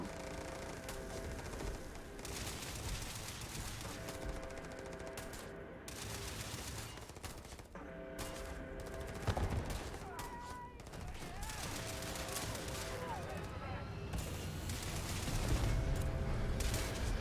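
Rapid bursts of gunfire from a shooter video game crackle steadily throughout, mixed with background music and the sound of people talking.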